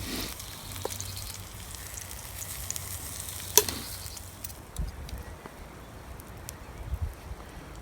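Drop scone batter sizzles steadily in a small pan over a wood-fired Firebox Nano twig stove outdoors in a backyard, a soft, continuous frying hiss with a few faint crackles and clicks, no talking.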